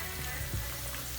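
Continuous hissing sizzle of homemade chips frying in hot oil, steady and close, with faint bubbling underneath and no voices.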